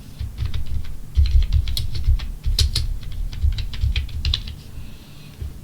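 Rapid, steady clicking of a computer keyboard as text is typed, close and clear, continuing for several seconds with no talking.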